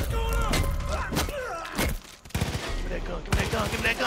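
Gunshots in a Far Cry 5 firefight on Xbox One X, ending in a headshot: several sharp, loud reports in quick succession, some rapid-fire bursts, mixed with thuds.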